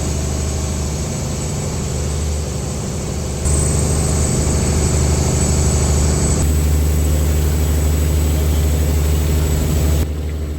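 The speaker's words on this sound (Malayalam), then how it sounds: "ഓളങ്ങളെ കീറി മുറിച്ചുകൊണ്ട് നമ്മുടെ വള്ളം മുന്നോട്ട് കുതിച്ചുകൊണ്ടിരിക്കുന്നതാണ് ഈ കാണുന്നത്." A purse seine fishing boat's engine drones loudly and steadily as the hull cuts through waves, a constant low rumble that rises in level partway through and holds, without any talk.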